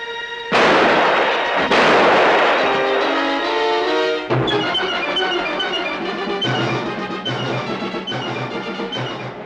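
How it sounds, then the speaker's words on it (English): Gunfire in a 1949 film: loud booming shots with long ringing decay, two big blasts close together followed by a string of further reports fading out. "Good shot, Bogle"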